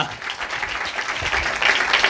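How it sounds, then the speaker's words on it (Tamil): Congregation clapping at a church gathering, a dense, continuous wash of many hands clapping together, fairly loud and steady. "చప్పట్లు కొట్టి హల్లెలూయా, హల్లెలూయా."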